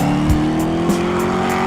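A Nissan 370z drift car holds a loud, steady engine drone with a sustained tire squeal, broken by a few brief sharp bursts, and no talking.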